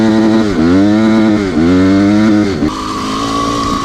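A four-stroke 250 dirt bike engine screams at high revs and repeatedly bounces off the rev limiter, a loud, close buzzing whine with rapid stuttering cut-outs, then it settles to a steadier, lower drone.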